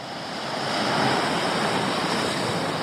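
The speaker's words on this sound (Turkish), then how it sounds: "Deniz dalgalı." Choppy sea waves wash onto the shore in a steady, loud hiss that swells slightly and holds, with some wind buffeting the microphone and no voices.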